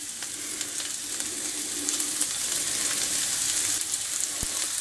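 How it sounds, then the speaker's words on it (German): Green asparagus sizzles steadily in oil as it is tossed in a frying pan, a continuous close crackle with light stirring and a brief knock near the end. "Schwenke das auch alles einmal schön durch, dass es ein bisschen mit Öl benetzt ist überall."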